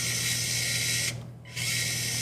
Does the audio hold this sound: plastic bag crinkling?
no